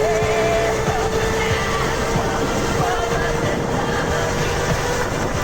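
A 5000W electric kart with a 3D printed sprocket is driven along at speed. A steady whine from the motor and drivetrain rides over constant rolling and wind rumble, close and unbroken throughout.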